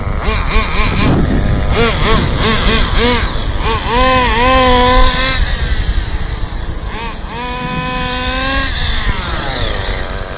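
An HPI MT2 G3.0 nitro RC truck engine running, a loud buzzing whine that revs up and down in repeated rising and falling sweeps, close and alone.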